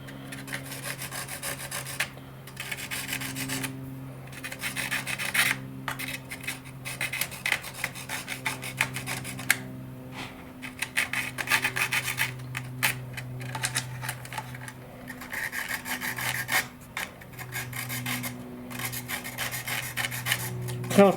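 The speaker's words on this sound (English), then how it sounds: "I'm going to take my file and just kind of clean up the cut so there's no frays." A file rasps along the freshly cut edge of a CCM Liberty F5J RC glider fuselage, putting a slight taper on it in steady, fairly close strokes with brief pauses, over a low continuous background hum.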